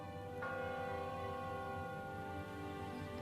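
A church bell rings with one struck onset, then a sustained, shimmering hum of layered overtones that hangs steadily for a few seconds with no voices.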